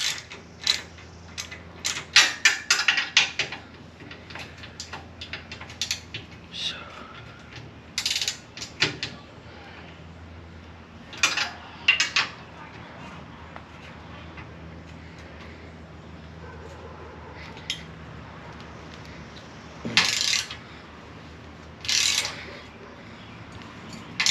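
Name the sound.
wrench breaking loose nuts on a boat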